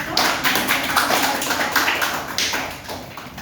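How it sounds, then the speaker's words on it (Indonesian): Students in a classroom clap for a group, a dense run of rapid hand claps close by, fairly loud and rhythmic, with no talk. "Berikan tepuk tangan kepada kelompok 1."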